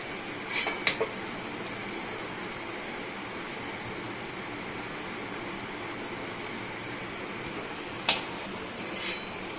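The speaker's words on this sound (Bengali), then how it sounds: "এখন কোফতাগুলো উঠিয়ে নিচ্ছি।" Fried paneer koftas are lifted out of hot oil in a pan: a steady, soft sizzle runs throughout, broken by a few sharp clinks of a utensil against the pan.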